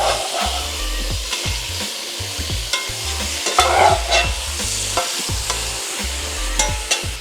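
Two pounds of ground beef with kosher salt browning in a pan for chili, loud close sizzling broken by a regular rhythm of spatula scrapes and taps, no talking.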